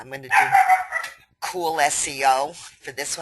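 A dog barks several times in loud, close bursts during a webinar, overlapping a person talking.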